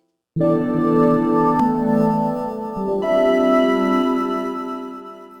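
A warm synthesizer pad sustains a rich, lush chord, shifting smoothly to a new chord partway through, then slowly fading, with no other sounds.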